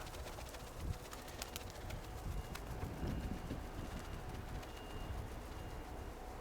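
Kirovohrad pigeons released by their keeper, wings clapping and fluttering in quick bursts over a continuous outdoor background hum, with faint cooing mixed in.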